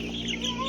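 Clucking from two-week-old chicks, a naked neck hatchery chick and a Cornish cross, comes as soft, steady calls close by with no talking.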